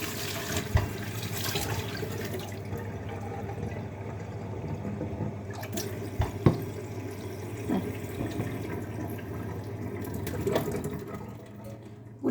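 Water runs steadily from a tap into a basin, a continuous close splashing hiss with a few faint clinks and knocks scattered through, and no talking.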